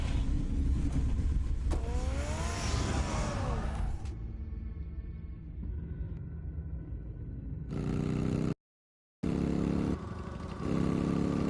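A car in the Batman Telltale video game starts up and drives off, with a loud, continuous engine roar and rising revs. The sound drops to a quieter idle, cuts out briefly, then returns strongly.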